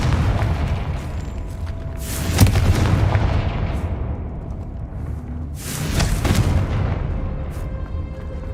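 Two heavy, booming fire-spell explosions in the Hogwarts Legacy video game, each a loud broadband burst with a rumbling tail, spaced a few seconds apart over continuous low game ambience.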